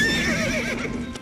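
A horse in an Alha-Udal folk audio drama gives a loud, close whinny with wavering, rising and falling tones for about a second. Faint hoof clip-clops sit underneath.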